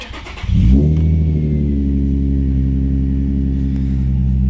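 A Nissan 350Z stuck in limp mode revs after a short start, the engine rising into a strained, flat drone that holds steady without climbing, close and loud.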